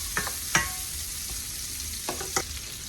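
Veal shoulder fries in a single pan for a one-pot dish under a steady soft sizzle, with a few sharp scraping clicks of a utensil stirring and scraping up the browned bits.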